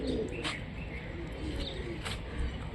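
A female Rajshahi tumbler pigeon descending after a tumbling flight, giving faint soft calls over steady outdoor background noise.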